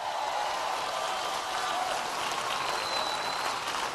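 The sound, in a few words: crowd applause at a rally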